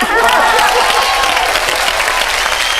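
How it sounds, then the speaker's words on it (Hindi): Studio audience at a comedy show clapping hard, a loud, continuous burst of applause with faint cheering mixed in, sustained throughout. "जोरदार तालियां उन मर्दों के लिए जो यहाँ बैठे हुए हैं और चुपचाप देख रहे हैं."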